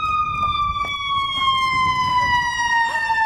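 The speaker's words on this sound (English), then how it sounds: "an ambulance just drove by" A passing ambulance siren sounds loud and close as a sustained, slowly falling wail with layered harmonics, while road traffic rumbles faintly underneath.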